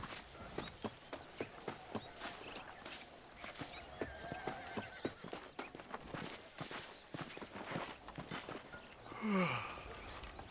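A horse walks in Red Dead Redemption on Xbox 360, its hooves clip-clopping in a steady, close rhythm. Near the end the horse gives a short neigh.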